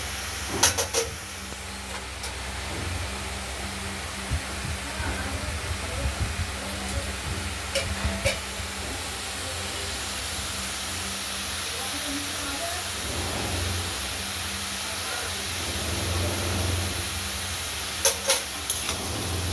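Green chilli and cumin sizzle in oil in a wok while ash gourd is fried, a steady broadband hiss running throughout with a few brief louder spits and clatters.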